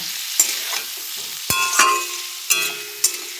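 Lightly salted eggplant pieces fry in a pan, a soft sizzle broken by a few sharp clinks and scrapes of a spatula stirring, with no voices.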